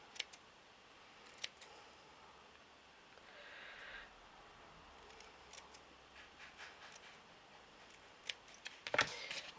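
Scissors make a few faint, scattered snips while trimming material on a miniature hat, close by in a quiet room with low background hiss.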